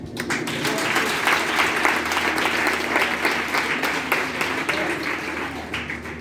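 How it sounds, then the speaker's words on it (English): An audience claps steadily in a dense, even wash of applause that holds at the same level throughout, with no voices rising above it. "Please clap your hands, I'm about to finish."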